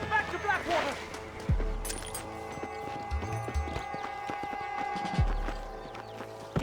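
Horse hooves clip-clopping at a run in Red Dead Redemption, a steady galloping beat set against music and ambient sound, with a voice speaking in places.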